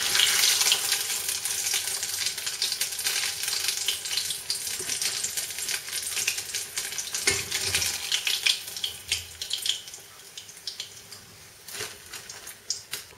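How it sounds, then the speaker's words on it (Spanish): Huevos Villaroy, eggs coated in béchamel, fry in hot oil until golden, giving a close, steady crackling sizzle with scattered pops that gradually thins toward the end. "que se frían hasta que se doren"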